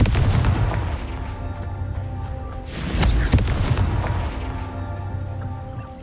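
Confringo blast spells from Hogwarts Legacy hitting rocks, a sustained rumbling boom with a sharper burst about halfway through, loud and full with no talking.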